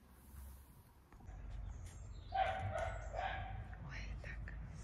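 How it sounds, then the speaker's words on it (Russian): A small dog yaps faintly in the distance, a few short high yips scattered over low background noise, with a person speaking nearby. "Тявкает собака."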